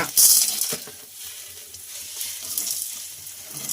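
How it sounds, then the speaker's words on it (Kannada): Urad dal, chana dal, chillies and fenugreek roast in a pan over low flame, giving a soft, continuous sizzle and rustle with faint stirring scrapes and a brief sharp clatter near the start. "ಉದ್ದಿನಬೇಳೆ, ಕಡಲೆಬೇಳೆ ಮತ್ತು ಈ ಒಂದು ಮೆಣಸು, ಮೆಂತ್ಯ ಇದಿಷ್ಟನ್ನು ಮೊದಲದಾಗಿ ಹುರ್ಕೊಳ್ಳೋಣ"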